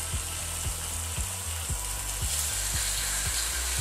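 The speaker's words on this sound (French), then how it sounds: "Une fois que l'huile est chaude, on y met la viande" Meat frying in hot olive oil in a saucepan, a steady loud sizzle with faint rhythmic scraping or stirring knocks throughout, close up with no voices.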